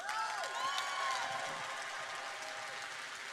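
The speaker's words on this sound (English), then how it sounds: "Give yourselves a round of applause." A large audience applauds and cheers at a business convention, broad clapping from a crowd that stays fairly faint and distant, with a few shouts and whistles rising above it.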